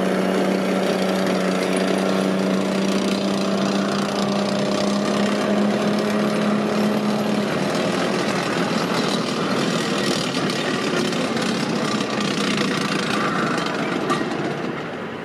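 Tracks of a Lynx reconnaissance vehicle clack continuously as it moves, a loud, dense, rapid metallic rattling mixed with engine rumble, steady throughout and close by.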